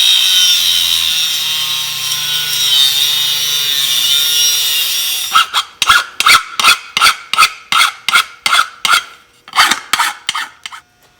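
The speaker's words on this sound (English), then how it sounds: "So used a file, cleaned off the edges." Hand file scraping across the freshly cut edges of a metal fuel tank during a VW Bus Subaru swap, with steady power-tool cutting first, then a run of about a dozen crisp, evenly spaced rasping strokes up close.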